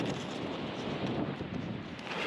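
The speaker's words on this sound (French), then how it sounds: "Il y a beaucoup de vent, il fait très froid" Strong wind at Lac des Pises in the Cévennes, cold mountain conditions, roars steadily across the microphone as a dense, continuous rushing buffet with no talk.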